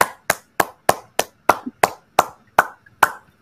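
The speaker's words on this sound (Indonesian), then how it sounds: "Mari tepuk tangan." Crisp, evenly spaced handclaps ring out about ten times in a slow, steady beat, each one sharp and close, with near silence between them.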